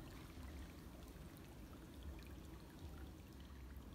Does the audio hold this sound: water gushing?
yes